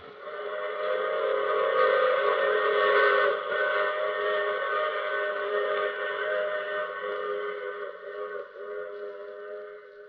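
A train whistle effect for an old-time radio mystery drama sounds as one sustained, chord-like blast lasting about ten seconds. It is loud and steady, then eases slightly toward the end, with no voices over it.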